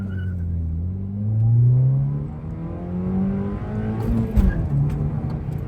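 A car drives along a main road, its engine rising and falling as it accelerates in drawn-out revs, fairly loud and close, with a rougher surge near the end and no talk.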